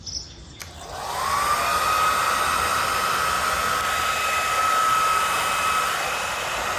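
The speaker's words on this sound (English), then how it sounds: "I'm just using a hair dryer." A hair dryer switches on with a click and blows steadily with a constant whine and rushing air, running without pause.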